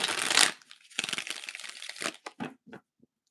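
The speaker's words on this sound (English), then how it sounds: "Let's shuffle real quick." A deck of tarot-style reading cards is shuffled in a few quick papery bursts, crisp and close, with the riffles getting shorter and sparser before stopping.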